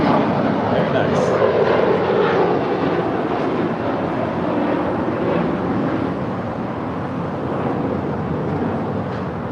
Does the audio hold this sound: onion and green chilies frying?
no